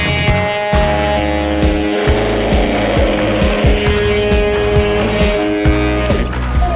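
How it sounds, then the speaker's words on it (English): Milwaukee M12 cordless multi-tool plunge cutting into wood, a loud steady buzzing drone with repeated rhythmic strokes and pulses as the blade oscillates through the material. "Start off with multi tool."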